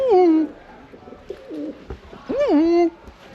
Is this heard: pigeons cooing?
yes